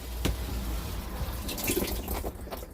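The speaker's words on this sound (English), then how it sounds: "Alright, I'm going to get a shower. Stop wasting water." Water runs steadily from a JML Pure shower head inside a van, a close, even hiss of spray with a few brief splashes and thumps.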